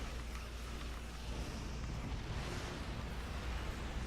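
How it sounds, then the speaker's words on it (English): A starship explosion in the space game Star Trek Online during a fleet PvE battle, a broad, rumbling blast that stays steady and fairly faint for several seconds. "I'm not getting caught in that explosion."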